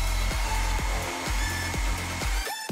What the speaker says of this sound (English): We need some heat so we can use the hairdryer.